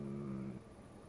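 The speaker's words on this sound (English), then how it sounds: "There's the good doggy." Dog in the medieval game Kingdom Come: Deliverance giving a short, soft whimpering whine that cuts off partway, quiet and close, with no talking.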